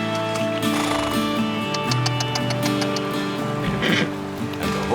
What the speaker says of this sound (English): And the horses come home.